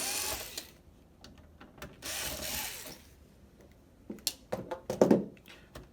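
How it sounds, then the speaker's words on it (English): Torx screws being removed from a PS4 console with a driver, heard as close ratcheting clicks and scraping bursts separated by pauses, ending in a cluster of sharper taps. "we're going to remove these Torx screws."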